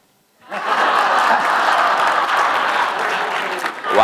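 Congress audience at a laughter-science event bursts into sustained, loud applause that starts abruptly and holds steady, with laughter mixed in, before tapering slightly near the end.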